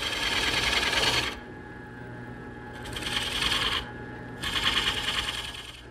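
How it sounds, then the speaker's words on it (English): A skew chisel cuts a small V groove into the wooden base of a turned table lamp on a lathe. Three scraping bursts of cutting noise, each about a second long, ride over a steady motor hum, with short pauses between them. "Now I'm going to switch to a skew chisel, and I can make this little V groove in the base."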